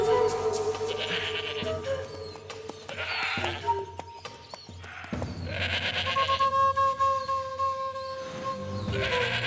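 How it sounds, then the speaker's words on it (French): A cartoon goat bleats repeatedly in a forest, several wavering cries rising over a soundtrack of music and effects, fairly loud and close. "Une chèvre dans la forêt? C'est étrange tout de même."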